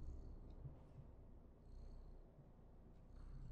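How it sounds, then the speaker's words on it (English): A cat purring in the game Stray, played back through a PS5 controller: a soft, low, continuous rumble with gentle rhythmic swells, quiet and close, with no talking over it. "I can hear him purring through the controller"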